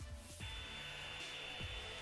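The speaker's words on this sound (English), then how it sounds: "we switch the positions and blow drying from an upwards position direction" A Revlon One-Step hair dryer blowing on 4C hair, a steady close whooshing airflow with faint rubbing and brief shifts as the dryer's position changes, quiet overall.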